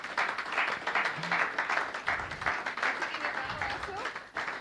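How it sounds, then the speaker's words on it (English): An audience clapping at a symposium on open source energy access, moderate applause throughout a few seconds at mid distance, with a voice speaking over it. "a bit of clapping for all this in person"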